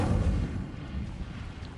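A fire spell cast in the Hogwarts Legacy video game bursts out as a loud, rumbling whoosh of flame, heavy in the low end and sustained through the short moment.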